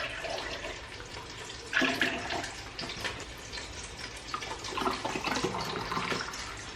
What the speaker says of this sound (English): I'm going to put into this jug here 2 cups of milk and 2 cups of water